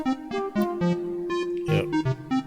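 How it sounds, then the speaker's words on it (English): Synthesized flute notes from an emulated Roland MT-32 sound module, a short melodic line of clear, breathy tones that rise and fall in pitch, played alone. "Is that the flute?"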